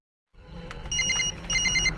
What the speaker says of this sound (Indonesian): ia mendengar dering ponsel dari dalam laci